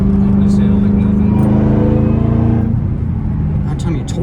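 A supercharged car climbs a hill under hard acceleration, its loud, steady engine drone rising in pitch and then easing as it passes the crest, with a few faint clicks near the end.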